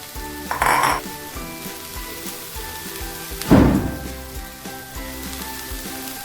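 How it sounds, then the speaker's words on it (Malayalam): Chopped green beans for payar thoran tip into a hot pan with a clatter of utensil on metal, then a second louder scraping stir, over a steady low frying sizzle. "നമ്മൾ അരിഞ്ഞു വെച്ചിരിക്കുന്ന പയർ ചേർത്ത് കൊടുക്കുക"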